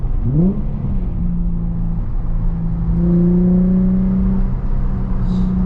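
A Nissan 350Z with a VQ engine and Tomei exhaust revs up with a quick rising sweep, then settles into a loud, coarse, sustained drone that climbs slightly in pitch, heard close with no talking.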